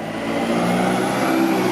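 A bus in the streets of Bewdley, Worcestershire, droning steadily nearby with a broad engine rumble and road noise at even loudness, no pause in the sound.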